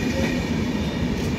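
The Satavahana Express, slowing near Charlapalli, rumbles steadily along the rails in a loud, continuous roar of wheels and carriage noise heard from on board.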